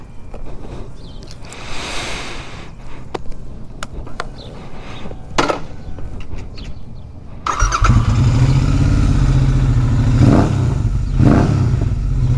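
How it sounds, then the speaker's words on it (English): A 2021 Royal Enfield Interceptor 650 motorcycle is ridden, with muffled handling and wind noise at first, then a loud, steady engine drone with rising revs and brief throttle swells up close. "Man, this bike sounds good."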